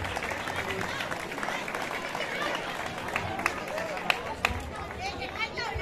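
Applause and crowd chatter rise at a local footrace as runners pose for a photo, with scattered claps and voices mixing into a steady hubbub.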